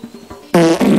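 A fart opens with a few faint, short sputters, then breaks into a loud, buzzing, tonal blast that wavers and holds to the end, close and isolated with no talking.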